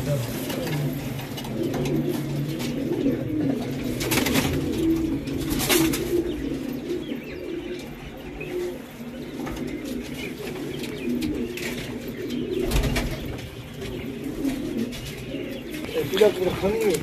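Sherazi pigeons coo in a loft, a steady chorus of low, soft, rolling coos with occasional chirps and wing flutters, while people talk nearby throughout.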